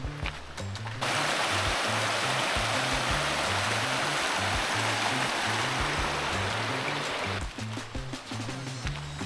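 A tropical creek and waterfalls in Queensland, Australia, rush in a loud, steady wash of water that fills the whole scene, with clicks and knocks near the start and end but no talk.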